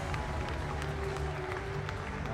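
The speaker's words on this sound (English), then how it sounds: "Big round of applause there for the Romanians" Applause for the Romanian rowing medalists at the Under-19 World Rowing Championships in Plovdiv, a steady wash of crowd clapping held at an even level throughout, with a faint voice over it.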